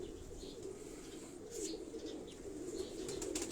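Pet pigeons coo softly in low, repeated murmurs close by, with a few brief flutters of wings and faint chirps over a quiet background.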